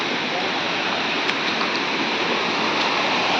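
Floodwater rushes through a village in a loud, constant roar of churning water, close and unbroken for the whole stretch.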